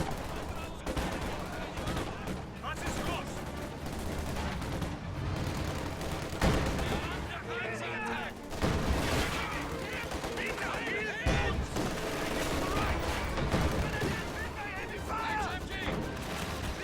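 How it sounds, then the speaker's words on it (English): A Maxim quad mount machine gun fires in a wartime strategy video game: sustained rapid bursts of gunfire layered over dense, continuous battle noise, loud throughout. "Maxim plus quad mount suppresses these squads, making their way towards the middle."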